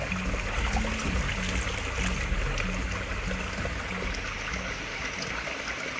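Clean mountain stream at the foot of Mount Sawal flowing steadily, a continuous close rushing wash of water with no speech over it.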